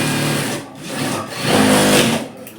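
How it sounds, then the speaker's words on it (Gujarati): A sewing machine runs a straight seam along a capri zipper, with a loud, close, rapid mechanical chatter that speeds up and slows down over a couple of seconds and has no talk over it. "અહીંયા સીધી સિલાઈ મારી દીધી આપણે."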